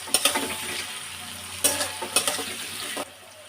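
Onions frying in a pan until browned for a fish-head moong dal, a steady close sizzle broken by several sharp stirring scrapes and clinks against the pan, ending abruptly.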